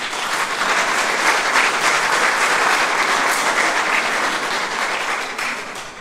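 Congregation at a Catholic Mass in a Tilburg church breaks into sustained, loud applause that holds steady for several seconds before starting to taper off, with no talking over it.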